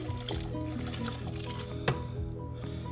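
Water and rice mix poured into a pot for risotto, a steady liquid splash and gurgle with one sharper slosh near the end, close and moderately quiet.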